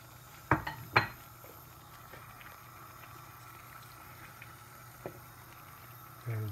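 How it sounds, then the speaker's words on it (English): Minced beef goes into a simmering pot, giving a couple of sharp clanks and soft thuds at the start, then a quiet bubbling background and a last clatter near the end. "we're just going to put the minced beef in."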